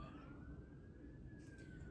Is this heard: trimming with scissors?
no